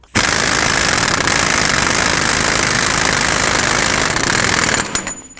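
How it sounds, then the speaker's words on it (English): Air impact gun snugging the front hub nut on a 1997-2003 Ford F-150 during upper control arm replacement, a loud continuous rattling hammer lasting about five seconds before cutting off, close and alone. "I'm going to use my air gun to snug it up because it'll be way faster"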